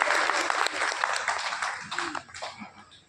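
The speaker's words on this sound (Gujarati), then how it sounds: "તાળી પાડો, થોડું કંજૂસી ના રાખો યાર." Audience clapping at a community gathering in Anand-Kheda, a dense, steady patter of many hands that starts loud and gradually thins and fades over a few seconds.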